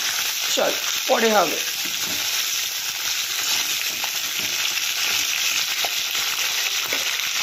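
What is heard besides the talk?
flat beans frying in a pan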